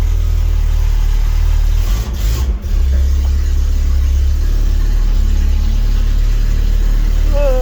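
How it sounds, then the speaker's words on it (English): A 1975 Toyota SR5 pickup with a 20R engine and a replacement muffler idles loudly and steadily up close, with a brief dip in the sound partway through. "Then the choke goes on, idles high, and then when it warms up, it idles back to normal."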